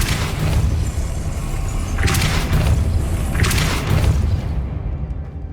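Depulso spell blasts in Hogwarts Legacy, two forceful whooshing bursts a little more than a second apart over a dense rumbling game background, close and loud.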